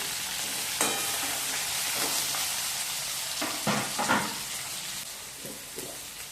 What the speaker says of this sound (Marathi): त्यामध्ये आता हे शिमला आणि कांदा देखील टाकून घेऊया